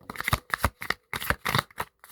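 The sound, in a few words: shuffling tarot cards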